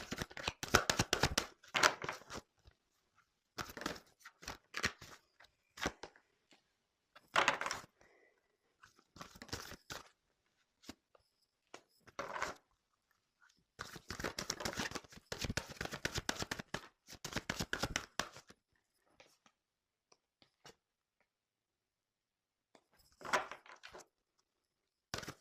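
Tarot cards being shuffled and handled for a reading, heard as bursts of crisp papery riffling and tapping separated by short pauses, fairly close and with no talking.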